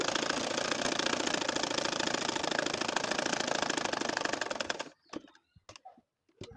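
A domestic sewing machine runs continuously while stitching a churi kantha quilt, a fast, even mechanical whirring and rapid needle pattern at close range that stops abruptly, followed by a few brief clicks and handling noises.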